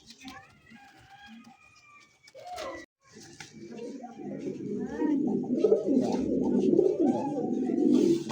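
Two black Rajgolla-coloured fancy pigeons with white breasts coo in low, rolling, overlapping calls that build from sparse notes into a steady, close murmur, with a brief voice early on.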